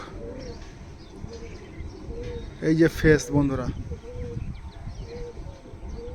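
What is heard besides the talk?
teddy pigeons cooing in a loft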